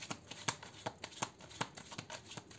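Tarot cards being shuffled by hand, a steady run of quick papery riffles and soft slaps repeating about every third of a second, close and fairly quiet with no voice.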